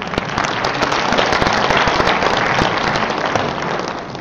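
An audience at the opening ceremony of an international academic conference bursts into loud, dense applause. The clapping stays close and sustained for about four seconds.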